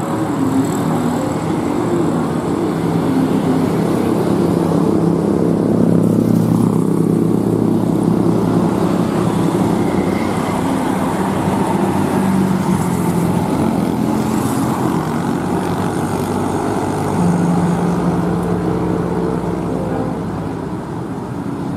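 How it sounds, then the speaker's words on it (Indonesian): Tour buses passing along Jalan Anyar on the road toward Ciwidey, a steady, loud rumble of heavy engines and tyre noise that swells gently and holds for the whole stretch, with no voices. "ini kita lihat bis-bis pariwisata yang melintas di Jalan Anyar ya"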